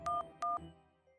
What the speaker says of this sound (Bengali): মোবাইলটা বরং চালিয়ে দেখি। ওরে বাবা, 1:10। বৃষ্টিকে একটা ফোন করি।